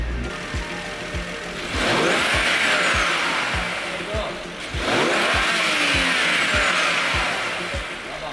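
A BMW F02 740Li with engine trouble, running on a replacement used ECU, revs loudly and close in two rising and falling pulls, with a fast regular ticking pulse underneath throughout.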